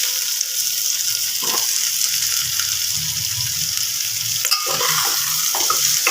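Onions, potato, papaya and carrot fry in a pan for stew, a constant close sizzle broken by scraping stirs of a spoon through the vegetables.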